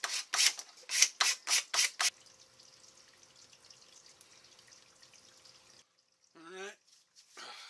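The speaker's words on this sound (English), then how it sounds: "we'll just sand this side down so that it's even" Sandpaper rasping against a knife handle being fitted to a Mora Classic 2/0 blade: six quick, loud back-and-forth strokes, then a long stretch of faint low scratching and a brief squeaky rub at the end.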